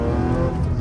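Supercharged Audi accelerating hard in first gear with traction control off: a loud, dense engine roar held steady and close for under a second, no voices.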